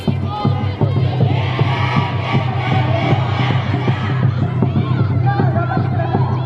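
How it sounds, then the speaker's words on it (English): Students at a Japanese school sports day shout and cheer during a race, a busy crowd of young voices with rhythmic chanting and a steady low thumping beneath, fairly close and continuous throughout. "So you can hear them cheering."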